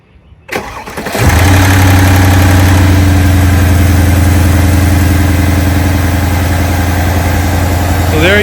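A Mercedes GLS 63 (X166) engine cranks and catches after a spark plug change, then settles into a loud, steady, smooth idle heard close up.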